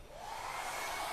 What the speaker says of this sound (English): we're going to take our hair dryer and we're going to encourage it to dry a little bit faster